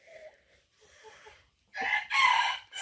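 Hens in a backyard coop settling in to lay eggs, clucking and calling in short bursts, faint at first and then loud and close in the second half.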